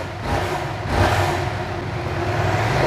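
A 2020 Yamaha MT-07 motorcycle engine revved up and let fall quickly, its exhaust giving a steady close mid-pitched drone with a slight rise and dip, no talking.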